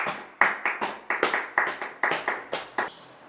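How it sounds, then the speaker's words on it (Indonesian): A small group claps in a classroom during a micro-teaching lesson on lathe machines, giving about a dozen distinct, evenly paced hand claps that sound sparse and close rather than a full ovation. "Jadi kita apresiasi buat Bastian, tepuk tangan."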